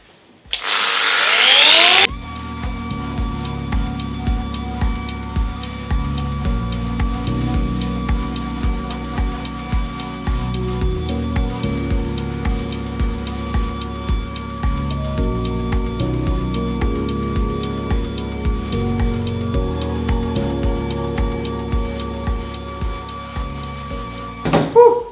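A power sander works 100 grit abrasive over Ercol wooden furniture, a steady loud whirring drone running continuously for about twenty-three seconds with a faint rhythmic pulsing, close by and with no talk.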